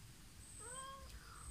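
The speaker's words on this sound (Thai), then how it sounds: "ได้ลูกแมวมาตัวหนึ่งนะคะ" A kitten gives a short, faint meow against a quiet hiss of room noise, a single thin rising-then-falling cry lasting under a second.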